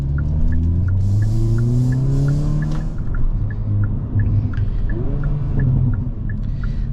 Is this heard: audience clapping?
no